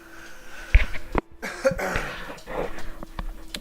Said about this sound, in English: Had to cough real quick.